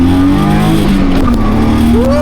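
BMW 328i inline-six engine pulling hard under acceleration, a loud close rising drone heard from inside the car, with the pitch climbing steadily through the short burst.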